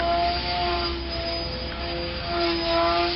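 A LUM Pocket Knife foam RC plane flies overhead in calm weather, its small propeller giving a steady buzzing whine with a sustained tonal drone that swells slightly toward the end, with no voices.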